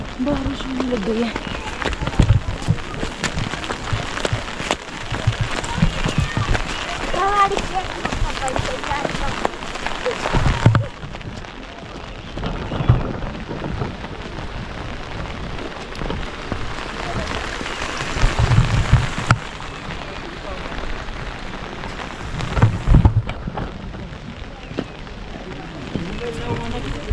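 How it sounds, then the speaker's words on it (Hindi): Steady rain pattering on surfaces near Gangtok, a dense continuous hiss with scattered drops, while a person talks over it. "बारिश होने लग गई है।"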